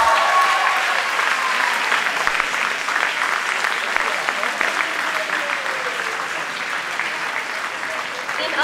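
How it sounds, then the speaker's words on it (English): An audience at a youth leadership awards event gives winners a loud round of applause, a dense, sustained wash of clapping that fades only slightly over several seconds. "a big round of applause for our winners of Youth Leader 2012"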